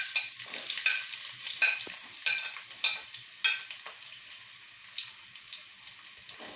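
Shallots sizzling in hot coconut oil in a pan, a crackling, spitting fry with sharp bursts and stirring scrapes, close and fairly loud.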